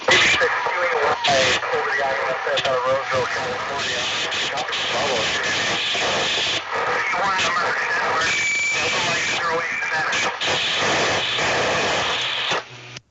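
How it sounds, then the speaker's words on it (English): A crowded ham radio repeater pileup, with many stations transmitting at once, forms a dense, steady wall of overlapping band-limited voices, squeals and static from start to finish, while a person talks over it. "You couldn't hear your own echo because there were just so many stations trying."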